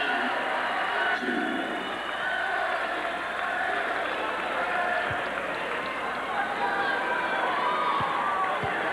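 A basketball arena crowd at a UNLV versus UCSB game roars and cheers steadily for the full stretch, a dense sustained wall of noise with faint commentary beneath it.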